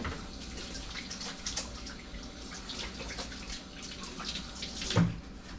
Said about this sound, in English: So let me wash my hands, because my hands have cookie dough all over them.